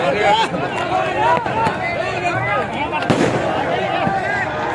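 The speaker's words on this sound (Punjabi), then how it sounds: "ਪਟਾਕੇ ਪਟਾਕੇ" Sharp firecracker pops burst out amid loud, excited voices and shouting from a busy crowd at a farmers' protest at the Shambhu border.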